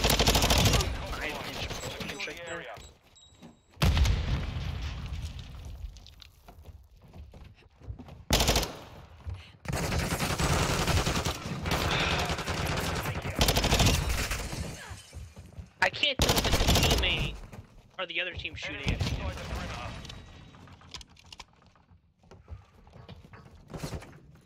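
Automatic rifle fire from the Modern Warfare 2 shooter, loud bursts and rapid volleys packed across the stretch with brief gaps between them, heavy and close, with some faint speech under it.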